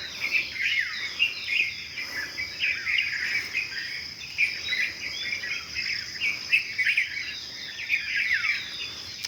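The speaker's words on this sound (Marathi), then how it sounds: "चिमण्याचा चिवचिवाट कलगलाट" Sparrows chirp and chatter at dawn over farmland, bursts of bright twittering coming in irregular waves above a constant high insect drone, with no voices.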